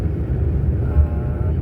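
A car rolls down the main street of Chesaning, with a low, steady road rumble and engine drone heard from inside the cabin, loud and unbroken.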